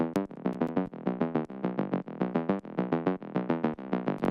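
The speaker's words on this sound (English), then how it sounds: "the next one that I have here is an Omnisphere bass patch" An Omnisphere bass patch plays rhythmic, bright bass plucks in quick repeating patterns, loud and clean with no voices.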